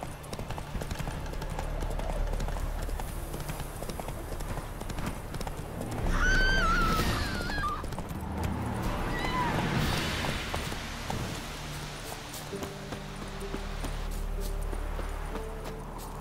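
Roach, the horse in the video game The Witcher 3, gallops with steady, loud clip-clop hoofbeats that run through the whole stretch, broken by a sharp whinny partway through, over game music and ambience.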